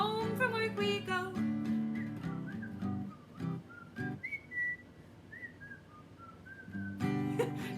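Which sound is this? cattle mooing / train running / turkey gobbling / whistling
whistling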